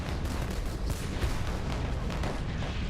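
Heavy guns fire a First World War artillery barrage against German positions, a dense, continuous roll of overlapping booms and rumbling blasts with no voices.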